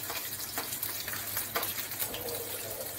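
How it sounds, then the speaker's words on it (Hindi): Grated ginger and garlic frying in refined oil in a pan, a steady soft sizzle with faint stirring clicks, moderately quiet and without speech. "इसे थोड़ी देर भून लेंगे।"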